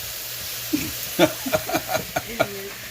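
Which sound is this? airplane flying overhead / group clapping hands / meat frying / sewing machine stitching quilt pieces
meat frying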